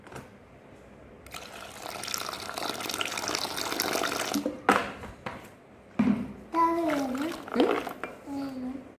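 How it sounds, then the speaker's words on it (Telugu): Water pours and trickles into a vessel of buttermilk being churned at home, a steady splashing stream, with a voice and other talk breaking in over the later part. "కొంచెం వాటర్ యాడ్ చేసుకుందాం"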